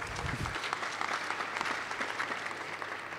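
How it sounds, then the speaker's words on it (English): A startup pitch audience gives a round of clapping for a quickfire presenter, a moderate, fairly dense patter of many hands that holds steady and sounds somewhat distant in the room. "Big clap."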